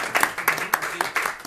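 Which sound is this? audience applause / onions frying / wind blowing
audience applause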